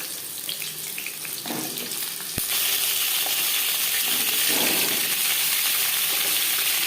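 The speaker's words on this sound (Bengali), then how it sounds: "পটল ভেজে নেব।" Pointed gourd (potol) frying in refined oil in a kadai, a steady loud sizzle that jumps up sharply as the pieces go in and continues as a dense hiss with softer bubbling underneath.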